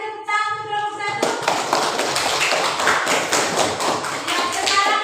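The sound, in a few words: classroom applause for a student group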